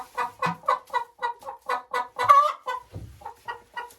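A hen clucks steadily in a quick rhythmic series after laying an egg, close by, with one louder squawking cackle midway and a soft thump after it.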